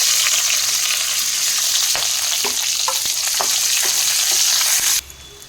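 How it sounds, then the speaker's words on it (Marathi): Chopped onion frying loudly with whole spices for masale bhaat, a dense close sizzle with a few stirring knocks that cuts off abruptly near the end. "आता यात हा जो कांदा कापला आहे आपण तो टाकून घ्यायचा आहे"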